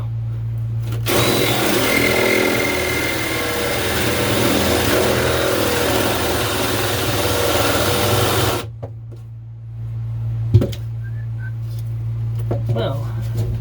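Power drill boring through a boat's fiberglass and wood, a loud, close, steady whine lasting about seven seconds before it stops abruptly, followed by a low hum, a few knocks and a voice.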